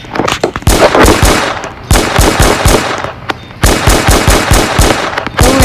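Rapid Glock gunfire in Roblox Brookhaven, loud bursts of sharp shots in fast runs separated by brief pauses, close and punchy, with no talk.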